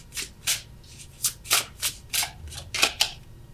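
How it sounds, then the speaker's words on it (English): Tarot cards shuffled by hand in a series of about ten quick riffling bursts, close and fairly soft, with brief pauses between them and no speech. "Let's get an extra card for the Sun."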